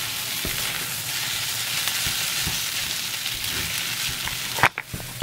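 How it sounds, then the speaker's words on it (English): Chicken fried rice sizzles steadily in butter in a pan, a continuous close frying hiss with occasional stirring scrapes, and a few louder clatters near the end. "just start frying that around"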